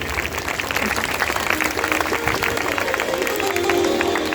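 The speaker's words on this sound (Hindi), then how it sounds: "अच्छा लगा तो तालियों में कंजूसी क्यों करते हो?" Audience applause at a Bhagwat Katha religious gathering, steady dense clapping from a large crowd that holds for several seconds at a constant level, with a faint tone droning beneath.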